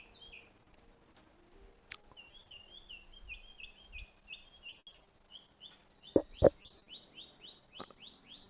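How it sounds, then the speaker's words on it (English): Outdoor birds on a cold, windy day give a steady run of short, repeated whistling chirps at moderate distance, with a couple of sharper louder calls and scattered clucking sounds mixed in. "Them birds is whistling at me."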